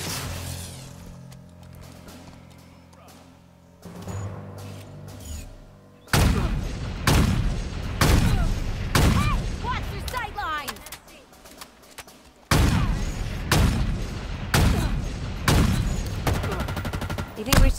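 Rapid bursts of video game gunfire from AI marines, loud and close, with repeated crackling volleys and booms that start sparse and intensify into sustained firing.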